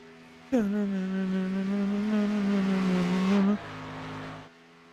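A race car circles the high banks at Talladega, its engine a loud, steady droning whine that holds for about three seconds before dropping to a lower, quieter hum and fading.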